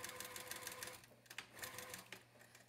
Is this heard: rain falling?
no